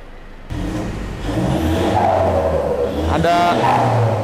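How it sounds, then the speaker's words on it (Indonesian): A car engine with a VNT turbo revs and accelerates with a rising whir, followed by a brief fluttering whistle from the turbo wastegate, close and fairly loud. "di VNT lu mesti dengerin, cuman di VNT doang ada suara wastegate-nya"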